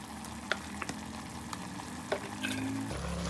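Mutton frying in a pan with ginger-garlic paste for mutton saaru: a steady close sizzle with a few sharp stirring clicks and a shift in tone near the end.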